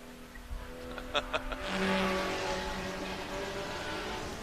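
A GT4 race car runs through a time attack course, engine tone rising and falling as it passes, with a few sharp bursts before a steady louder roar and a faint low drone behind.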